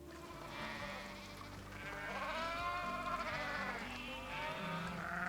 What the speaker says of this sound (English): Baby alpacas.